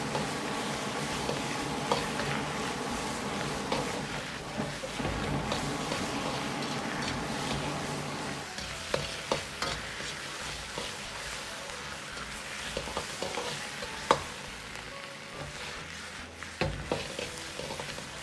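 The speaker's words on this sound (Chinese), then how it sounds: "保持大火下入白菜帮先煸炒" Napa cabbage stems stir-fried in a little oil over high heat in a dry-heated wok for hot and sour cabbage, giving a steady loud sizzle broken by scraping stirs and occasional sharp clacks, with no talking.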